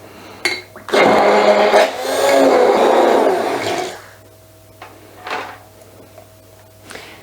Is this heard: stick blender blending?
yes